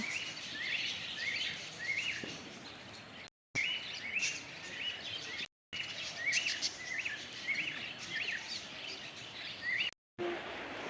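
Many small birds chatter and chirp continuously in a forest deer park, a busy, fairly faint flock of calls with brief gaps of silence.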